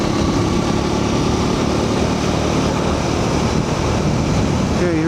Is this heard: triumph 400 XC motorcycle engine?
yes